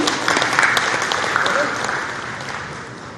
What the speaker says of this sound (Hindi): एक बार जोरदार तालियां हो जाए माननीय के लिए।